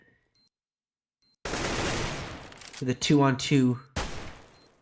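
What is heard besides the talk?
gunshots in video game Counter-Strike: Global Offensive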